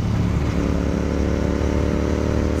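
A Royal Enfield GT650 650cc twin fitted with a BMC air filter, heard while riding as a loud, steady, continuous engine drone with no talking.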